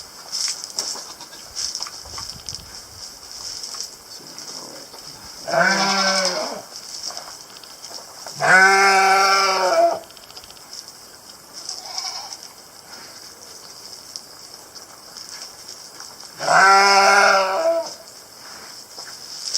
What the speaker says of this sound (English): my sheep is not dying. That's what he sounds like all the time.